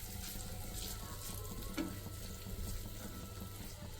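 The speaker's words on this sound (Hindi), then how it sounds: "थोड़ा सा इसको भून लेंगे लहसुन को" Finely chopped garlic, about a tablespoon, frying in butter in a pan for butter chicken, giving a steady close sizzle with a few soft stirring clinks and no talk.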